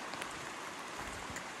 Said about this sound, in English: it's raining right now and a little bit